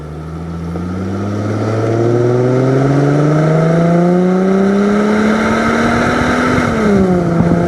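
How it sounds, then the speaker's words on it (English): A 2005 Chrysler Crossfire engine revs up under throttle, its pitch climbing steadily as it accelerates, then dipping briefly as it shifts. "They actually do sound pretty good when you get in the throttle."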